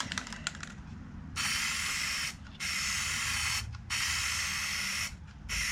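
A spray can hisses a coat into the inside of a foam camera case, in three loud sustained bursts separated by short pauses, after a few faint clicks at the start.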